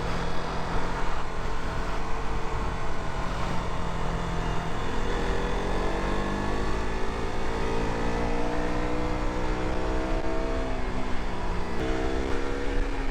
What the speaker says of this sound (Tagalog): Ganda ng response ng makina niya.